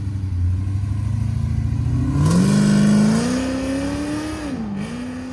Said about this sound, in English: LS3 swapped, cam, headers, full 3-inch system, and then the star of the show is the Valvetronic designs mufflers. This is with valves closed.